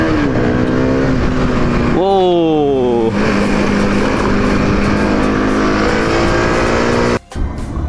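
Bajaj RS200 motorcycles ride hard through heavy traffic, their engines revving up and down loudly and close over constant wind rush, with a sharp rising pitch sweep partway through; a rider's voice briefly sounds.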